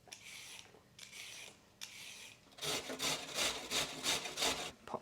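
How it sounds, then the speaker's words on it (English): A peeled carrot is grated in rhythmic rasping strokes, a few slower passes first and then a faster, louder run of regular scrapes, close up with no talking. "Peel and grate the carrot."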